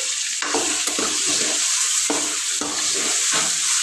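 Chicken coated with salt and turmeric is stirred in a pan, a steady close sizzle broken by repeated scraping strokes of a spoon, with no one talking.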